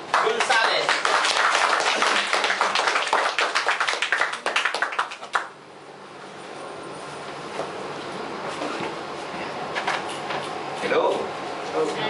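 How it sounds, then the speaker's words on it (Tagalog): An audience at a training event claps loudly and densely to welcome a speaker, then the clapping breaks off abruptly, leaving quieter room noise with scattered claps and some voices. "Isang milyong-milyong palakpak para sa kanya."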